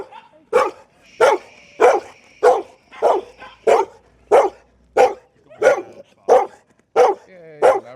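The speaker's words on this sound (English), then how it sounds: "He also barks in excitement" A fox red Labrador barks excitedly in a quick, regular series of about a dozen loud, close barks with brief yips between them.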